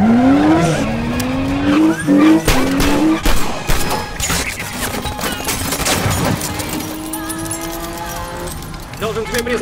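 Car chase on a highway in the film Mr. and Mrs. Smith: loud repeated tire squeals and skidding with rising engine revs, impacts and gunfire-like bursts, with brief voices amid the chaos.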